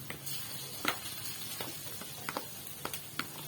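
Beaten eggs sizzle in a hot frying pan while being stirred, with a steady frying hiss and several short scraping clicks from the stirring utensil spread across the moment.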